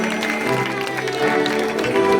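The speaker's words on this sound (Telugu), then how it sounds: "చప్పట్లు కొట్టండి అందరూ" Audience clapping at a Sunday school skit in a church, a short burst of steady applause mixed with crowd sound and faint talk.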